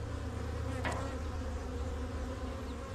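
Yellow jackets near a beehive outdoors, a soft continuous insect buzz with one wasp passing close by briefly, faint and without talk.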